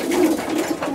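Racing pigeons arriving home to the loft after a race flight coo softly in a short, close, throaty phrase, with no talking.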